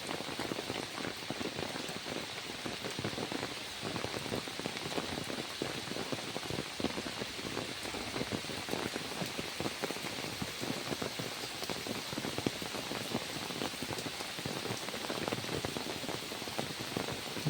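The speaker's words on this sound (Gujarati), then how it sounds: "બનાસકાંઠા જિલ્લાના ડીસા તાલુકામાં જોરદાર વરસાદ." Heavy rain pours steadily in Deesa, Banaskantha, a dense, even hiss of drops drumming on surfaces that continues without a break and without voices.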